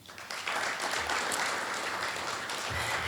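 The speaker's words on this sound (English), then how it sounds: "So let's give them a round of applause." Audience applause at an alumni awards ceremony, steady and dense clapping from a seated crowd filling the hall throughout, fairly loud with no talk over it.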